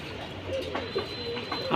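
Soft, low cooing of pigeons close by, a few short murmured calls over a faint background hum.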